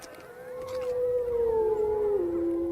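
A wolf howls in Yellowstone in winter, one long sustained wavering note that slowly drops in pitch, close and clear, with faint accompanying voices of other wolves behind it.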